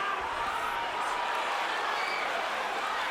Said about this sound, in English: brings some excitement to the Brooklyn fans in the